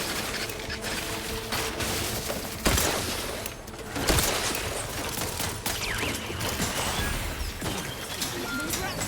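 Gunfire in The Outer Worlds 2, a dense run of shots and impacts with a couple of sharper bursts, close and busy under game music and ambience.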